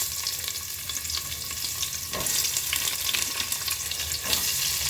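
Onions fry for biryani in a pan over medium heat, a loud continuous sizzle with occasional stirring scrapes, growing slightly louder partway through, no voices.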